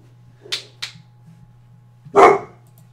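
Pet dogs barking indoors, a couple of short sharp barks followed by a louder burst a second later, over a steady low hum with no talking.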